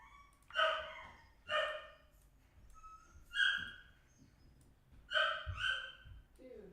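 A dog barks indoors in a few separate bursts, some single and some doubled, fairly clear and moderately loud, with a faint low rumble underneath and no speech.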